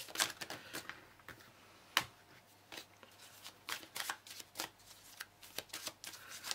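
Tarot cards being shuffled and handled close by: quick bursts of riffling and flapping with sharp taps as the deck is squared, uneven in rhythm, with no voices.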